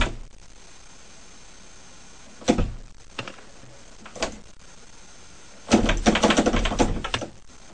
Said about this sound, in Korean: 누군가 현관문 손잡이를 열려고 합니다. 그러다 서서히 잠금 장치가 열리죠.